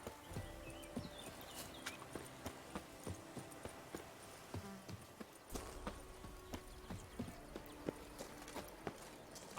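Roach the horse in The Witcher 3 walks with steady, rhythmic clip-clop hoofbeats, moderately close and fairly quiet, over a soft ambient game background.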